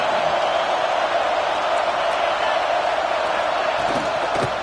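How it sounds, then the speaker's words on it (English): A football stadium crowd roars in a loud, steady, unbroken wall of noise throughout, with no distinct voices standing out. "This crowd, full throat, splitting the eardrums and letting them know it's going to be a long day"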